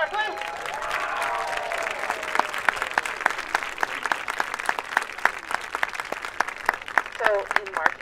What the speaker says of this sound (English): Let's give a round of applause for our flutes!